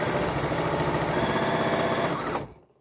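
A Bernina 880 sewing machine runs steadily at close range, its rapid mechanical whir and fast needle chatter continuous for over two seconds before cutting off abruptly and fading out.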